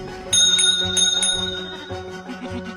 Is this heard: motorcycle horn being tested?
no